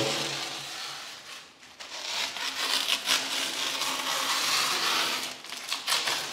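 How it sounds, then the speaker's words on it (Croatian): Painter's masking tape peeled away from around doors and windows, a close, continuous rasping rip that runs for several seconds with brief pauses between pulls. "Zatim skidam molersku traku oko vrata i prozora i sve gdje sam je postavio."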